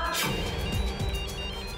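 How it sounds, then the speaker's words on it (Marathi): A phone ringtone plays steadily, a bright electronic melody sounding fairly close and loud, with no talking over it. "कुणाचा फोन वाजतोय रे?"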